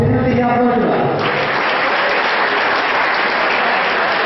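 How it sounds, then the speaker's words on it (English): An audience at a university robotics challenge in Sri Lanka bursts into loud, sustained applause just after a voice over the sound system finishes speaking, the clapping continuing thickly to the end. "shall we give one last big applause for the Ika of University of Moratuwa"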